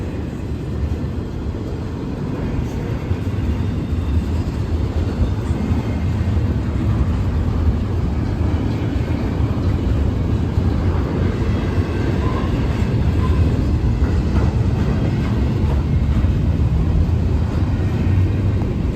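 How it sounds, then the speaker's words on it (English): A heavy rumble of a train rolling by slowly in Plant City, Florida, steady and fairly loud throughout, with a low grinding drone and faint metallic squeals. "Now, this train was going slow because they have a false partial at Park Road."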